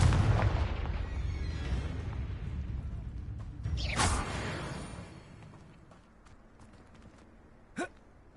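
The Confringo blasting spell from the Hogwarts Legacy video game erupts in a rumbling explosion with a whooshing burst, then the noise fades, followed by a single sharp crack.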